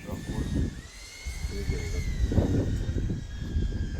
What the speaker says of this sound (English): he wants to get some drone footage of this campground